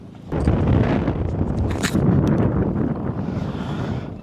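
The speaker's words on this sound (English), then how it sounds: "It's not the greatest day, a little bit windy." Strong, steady wind buffets the microphone on a yacht anchored off Malakula, Vanuatu, a loud continuous rumbling roar with gusts rising and falling throughout.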